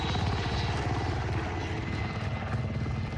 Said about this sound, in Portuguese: tá bem mais baixinho o som desse helicóptero agora